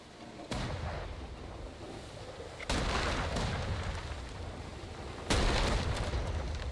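Cannon fire during a pirate ship battle in a video game: three heavy booms, each followed by a sustained rumbling roar, spaced a few seconds apart.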